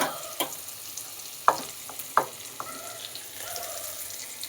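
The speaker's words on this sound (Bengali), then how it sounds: "আদা গ্রেট করে রেখেছি সেই আদাটা দিয়ে দিচ্ছি রসুন থেতো করে রেখেছি রসুনটা একটু দিয়ে দিচ্ছি" Grated ginger and crushed garlic frying in a pan: a low steady sizzle punctuated by a handful of sharp spatula taps against the pan, close up, with nobody talking.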